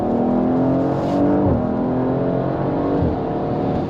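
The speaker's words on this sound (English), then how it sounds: "You just come down the gears, plant the throttle," An Audi RS4's engine roars steadily under full throttle, its pitch dipping briefly at two quick gear changes before pulling on, loud and close.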